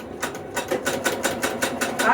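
A small domestic sewing machine stitches quilt fabric in a fast, steady run of mechanical bursts, close by and fairly loud, with no talking over it.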